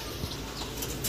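A pigeon being released flaps its wings in a few quick soft flutters, close by, over a steady background hiss.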